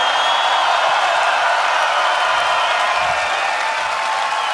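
Massed festival audience at Pol'and'Rock Festival 2019 applauding and cheering for Perturbator, a continuous, loud wall of clapping and crowd noise that stays even throughout.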